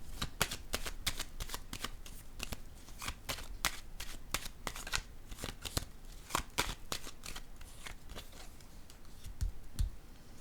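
Playing cards shuffled and dealt for a tarot-style reading, a steady run of crisp riffling snaps and slaps close up, with no talking.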